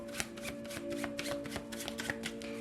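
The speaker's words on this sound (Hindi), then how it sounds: "तो चलिए अब शफल कर लेते हैं मकर राशि कैप्रिकॉर्न साइन के लिए।" Tarot cards being shuffled for a reading, a quiet close run of soft riffling flicks and slaps in quick uneven bursts over a faint steady hum.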